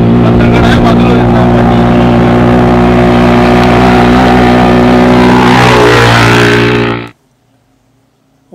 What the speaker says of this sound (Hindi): 150 सीसी ATV